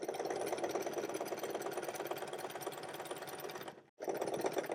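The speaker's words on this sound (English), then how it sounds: "I'm just going to kind of feel where that seam is and make sure I sew inside of it" Sewing machine running steadily to top stitch the fabric of a ruffle tote bag, a fast continuous mechanical whir heard close and alone, briefly stopping near the end before starting again.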